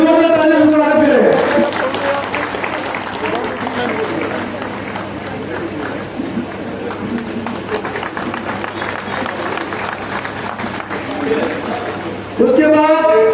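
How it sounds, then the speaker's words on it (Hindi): Crowd applauding at a political party event in Barnoti, Kathua, sustained dense clapping for about ten seconds, with someone talking over a loudspeaker at the start and end. "उनका स्वागत करें, जोरदार तालियों से स्वागत करें।"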